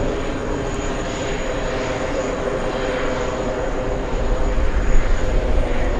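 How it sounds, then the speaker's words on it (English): A China Eastern Boeing 777 landing at JFK makes a steady, broad jet roar that holds level and swells slightly louder toward the end, with no talk over it. "We have a China Eastern 777 landing"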